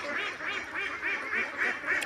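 Young farm-raised ducks, still growing their feathers, quack in a quick repeated series of about seven bright, nasal calls, close and fairly loud with no talking.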